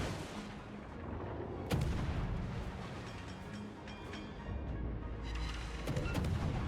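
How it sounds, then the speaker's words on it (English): Naval gunfire in a warship video game, with armor-piercing shells fired at the player's ship: distant booming salvos and sharp cracks over a constant rumbling background, fairly faint. "Riga's firing armor piercing at me, which is not ideal."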